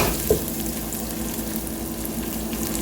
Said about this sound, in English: just add enough palm oil and onions and fry till the onions are translucent